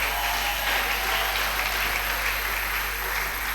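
A church congregation at a Sunday joint worship service applauds, a dense and even wash of many hands clapping that holds steady throughout over a low constant hum.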